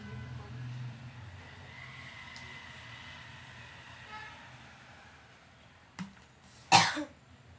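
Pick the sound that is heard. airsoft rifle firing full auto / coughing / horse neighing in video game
coughing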